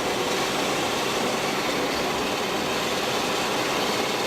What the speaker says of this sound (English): Now we have the cooling air going.